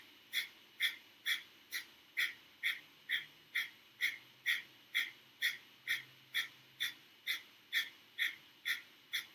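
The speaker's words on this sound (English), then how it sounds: "Keep going, keep breathing." Deep yoga breathing exercise: a steady, rhythmic series of about twenty quick, forceful nasal exhales, evenly spaced and close, with no talking.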